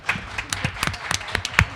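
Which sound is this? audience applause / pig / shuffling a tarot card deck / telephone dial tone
audience applause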